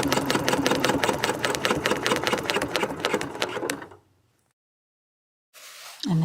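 Sewing machine stitching a few small stitches at a corner for an arrow quilt block, a rapid even run of needle strokes that stops abruptly, followed by silence and a faint handling sound.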